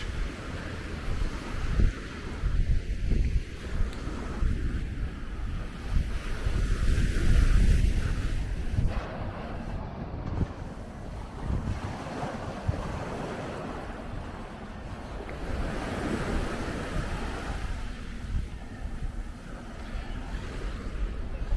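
Steady ocean surf washes along a beach at Grace Bay, Turks and Caicos, with gusting wind across the microphone, a constant broad rush with no voices.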